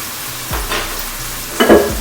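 Soy sauce hits a hot pan with beef, bursting into two sharp sizzles that flare and fade over two seconds, loud and close, with faint clatter between and no voices.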